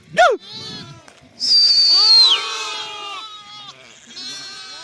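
Sheep and lambs bleat on a farm, a high lamb cry followed by loud, wavering bleats from several animals close by, overlapping one another through the clip.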